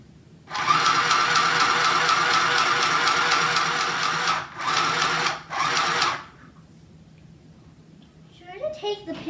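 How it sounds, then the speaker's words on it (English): A sewing machine stitches fabric with ribbon pinned around its edges. It runs loudly and steadily for several seconds, then gives two short bursts, goes quiet, and soft handling rustles follow. "Then, after that, you're going to sew. So, give me 1 minute to sew,"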